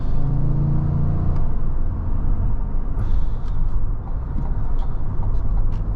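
A 2022 Cadillac Escalade Sport Platinum V8 engine rumbles steadily at close range with a deep, throaty tone, rising slightly as it revs.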